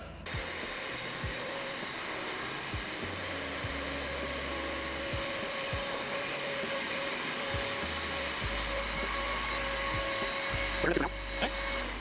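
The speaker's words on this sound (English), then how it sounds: "we're gonna vacuum behind there" A vacuum cleaner runs behind the air conditioner condenser of a Porsche 996 with the bumper removed, a steady moderate motor drone with occasional low bumps and knocks as the nozzle moves.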